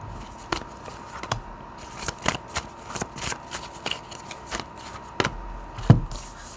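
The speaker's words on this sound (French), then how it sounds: "Du coup, on va rajouter des cartes ici." Playing cards shuffled close by in a steady run of soft riffling flicks and taps, about a dozen beats over several seconds, alone with no talking.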